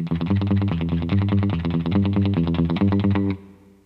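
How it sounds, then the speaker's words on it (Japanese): Electric guitar plays a quick, rhythmic repeated phrase with reverb and no delay, then stops and the sound rings out briefly. "リバーブだけ、エコーだけをかけた状態で、ディレイなしでやってみます"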